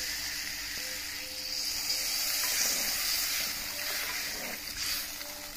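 Water poured into a pan of frying potato and papaya pieces, a steady hiss and gurgle of liquid meeting hot oil that swells briefly near the middle and trails off, with no talking.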